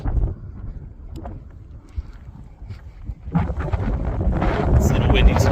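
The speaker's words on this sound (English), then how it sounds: "It's a little windy today." Gusty wind buffets the microphone on the open Bonneville Salt Flats in Utah, with low rumbling blasts building louder and rougher in the second half, near and continuous.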